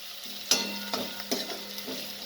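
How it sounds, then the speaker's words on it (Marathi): Chopped onion and garlic sautéing in a pan for Vidarbha-style dal fry, a soft continuous sizzle broken by several scraping stirs of a spoon against the pan, close and fairly quiet. "कांदा लसूण पूर्ण टाकलेला आहे, तुम्हाला दिसत असेल. चांगला परतायचा"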